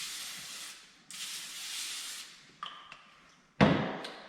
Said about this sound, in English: we are going to use Pam cooking spray and give it a good healthy